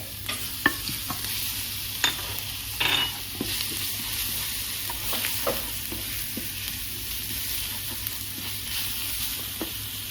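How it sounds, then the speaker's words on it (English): Garlic frying in vegetable oil in a pan, a steady soft sizzle with occasional stirring scrapes and clicks, close and alone without speech. "she's adding some more vegetable oil to the pan. And the rest of the garlic."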